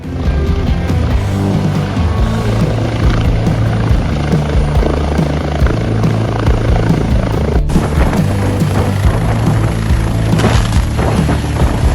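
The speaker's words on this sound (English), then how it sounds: "this helicopter pilot is whizzing his way through two tightly spaced hangars without a second thought" A helicopter flies low between two tightly spaced hangars, its rotor roar loud and constant with heavy low thumping and a sharp shift in tone partway through.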